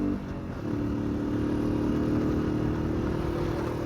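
Motorcycle ridden on a road between Sialkot and Chiniot, a steady close engine drone with low rumbling and road noise running evenly throughout, no talking.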